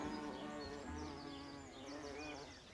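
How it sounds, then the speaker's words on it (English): A steady low buzzing hum of bees fills the air of a garden in Bath, UK, continuous and soft, with no voices. "can you just hear the bees? That low hum."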